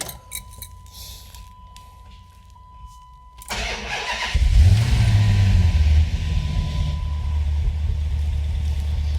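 A cheap V8 Dodge Charger project car cranks over and fires, then revs up into a loud, deep roar before settling into a steady rumbling idle, recorded close by.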